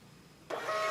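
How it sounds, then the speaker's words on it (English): A receipt printer on an election poll book runs a test receipt: a quiet hum, then a sudden loud burst of steady mechanical printing noise for the last half second, with no talking. "press the green printer icon and select Print Test Receipt, and a sample receipt will print"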